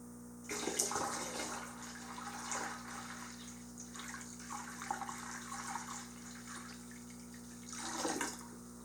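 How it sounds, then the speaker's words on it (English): Water is poured into a drip-feed deep water culture hydroponic bucket, heard as a close, splashing pour that swells at the start, runs on more quietly, then surges again near the end over a low steady hum. "Watch that water line increase as I pour water in."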